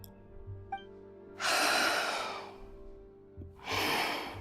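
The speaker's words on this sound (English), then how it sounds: "Why is she breathing right in the mic?" Heavy breathing pushed right into a microphone by a Genshin Impact character voice: two long, close, rushing breaths with a short pause between them.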